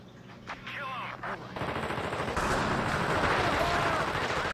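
Rapid gunfire from The Thing on the original Xbox builds from a few scattered shots into a dense, sustained burst, fairly quiet overall, with a player's voice briefly heard early on.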